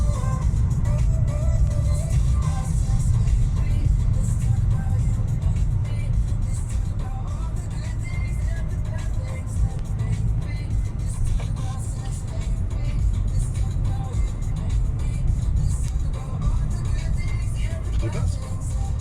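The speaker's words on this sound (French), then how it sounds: "Alors des camions dans tous les sens." Heavy traffic of trucks and cars rumbles continuously from all directions during a rally drive, a dense low road drone with passing vehicles and no clear break.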